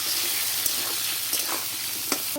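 Spices sizzle in hot oil in a pan for a catla fish curry with taro, a steady dense frying hiss broken by a few sharp stirring scrapes.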